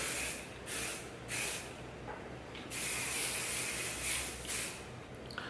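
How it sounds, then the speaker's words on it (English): Hairspray mists over styled hair in several short hissing bursts followed by a longer continuous spritz, close and fairly soft, without any talking. "we're just gonna spritz the hair over with some hairspray"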